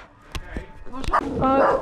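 A dog at an abandoned water park gives a few short, loud barks and yips close by, mixed with nearby voices.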